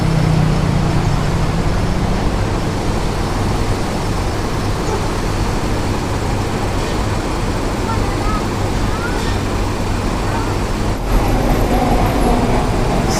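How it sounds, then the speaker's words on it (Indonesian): Mercedes-Benz OH 1526 bus with Laksana bodywork idling at Kampung Rambutan bus terminal, a steady low engine rumble with broad roadway noise throughout, a brief louder burst near the end. "bis ini memakai sasis Mercedes-Benz OH 1526, karoseri dari"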